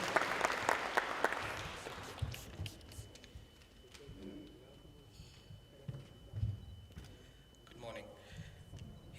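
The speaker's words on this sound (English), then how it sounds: "Can we give him another big round of applause?" Audience applause at a matric awards ceremony honouring top-performing schools and matriculants, a burst of clapping in the opening two seconds that quickly fades into quieter room noise and scattered sounds.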